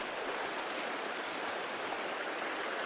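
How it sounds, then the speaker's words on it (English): A small creek flows at dusk beside a campsite among large trees, a steady close rush of water with no talk. "Right down next to this little creek."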